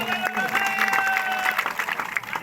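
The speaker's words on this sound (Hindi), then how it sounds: "तालियां मारो" Spectators clap at an open volleyball tournament in Pakistan, dense steady applause from a crowd mixed with cheering and tonal voices or whistles over it.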